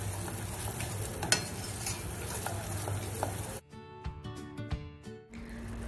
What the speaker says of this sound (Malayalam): അപ്പോൾ അത് ഇട്ട് കൊടുത്ത് നമുക്ക് നല്ലപോലെ ഒന്ന് ഇളക്കി കൊടുക്കാം.